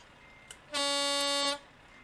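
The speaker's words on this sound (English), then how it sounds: "The horns sound realistic." Truck horn in Euro Truck Simulator 2, one loud sustained blast of under a second, harmonically rich and steady, preceded by a faint brief tone, with no talk over it.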